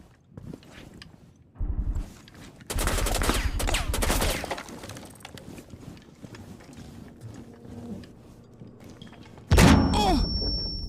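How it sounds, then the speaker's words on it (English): Video game gunfire crackles in dense bursts, a loud rapid volley in the middle and another sharp burst near the end, with thumps and quieter clatter between. "Gunshots."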